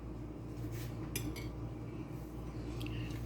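A spoon stirs tzatziki in a bowl, yogurt mixed with salt and black pepper, giving a few light metallic clinks and scrapes over a steady low background hum.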